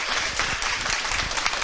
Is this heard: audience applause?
yes